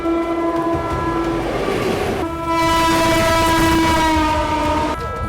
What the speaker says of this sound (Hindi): करीब 10 ट्रेनें जो हैं इसको ओवरटेक करने वाली हैं